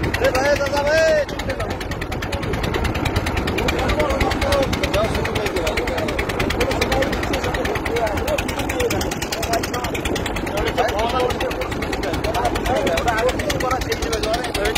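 A motorized engine boat travels on the Brahmaputra River in Kurigram, Bangladesh, with a constant droning engine hum close by while a person talks over it the whole time.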